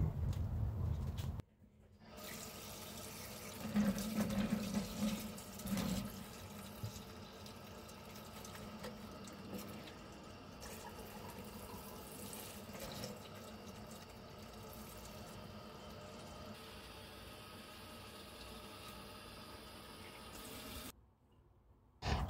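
Tap water runs steadily onto tteokbokki rice cakes being washed in a sink, a faint continuous splash with a few brief louder sloshes early on, then a quiet stop near the end.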